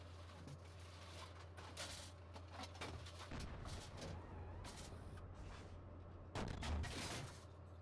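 Tank gunfire in the Steel Beasts video game: a few muffled blasts with sharp onsets, the last and heaviest near the end, over a steady low engine drone, faint and without talk.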